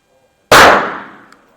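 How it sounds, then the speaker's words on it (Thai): A single sharp, loud shot from a Beretta 950 BS Jetfire pocket pistol firing low-pressure 6.35 mm ammunition rings out close by and decays over about a second. "ได้ 4 นัดนะครับเอาอีกนัดละกันนะ มันจะได้เป็น 5 นัดนะครับ"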